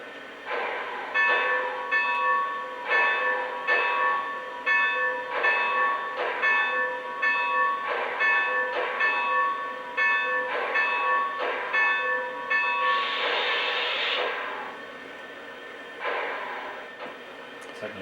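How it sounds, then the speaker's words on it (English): A Lionel Southern Pacific 4-8-8-2 AC-12 Cab Forward model locomotive's bell rings steadily in quick repeated strikes against a soft rumbling background, close up, with no voices. "now let's give a listen to the bell"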